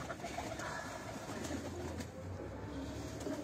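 Soft, steady cooing of a Shaheen-breed pigeon held in a hand, low and continuous beneath a busy outdoor background hum, with no clear talk.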